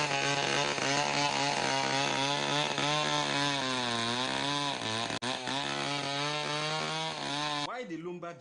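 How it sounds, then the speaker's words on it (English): Chainsaws cutting timber in a Bayelsa State forest in the Niger Delta drone loudly and continuously, the engine pitch rising and dipping as blades bite into wood, then cutting off near the end. "One could hear from afar sound of sawing machines in and around the forest of Bayelsa"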